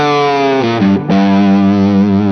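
Late-1950s Gibson Les Paul played through a Marshall 212 combo amp cranked to heavy distortion, sustained thick overdriven notes sliding between pitches with a brief dip, loud and close, no voices.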